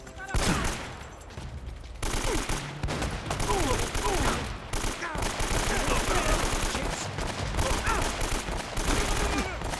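Sustained automatic gunfire sprays in a Uncharted: Drake's Fortune firefight, dense rapid bursts running almost the whole time with short gaps, loud and close, mixed with other game noise.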